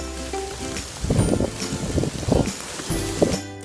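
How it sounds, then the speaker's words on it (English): Hail pelting down through woodland in the Tamar Valley, a dense steady crackling patter that swells and thins over a few seconds, close around the listener. "the hail's coming down now"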